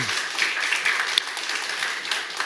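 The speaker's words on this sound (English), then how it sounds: "I think round of applause for Dmitry." Applause from a conference audience after a speaker's talk at an international data conference, a steady wash of moderate clapping with a few sharper individual claps standing out.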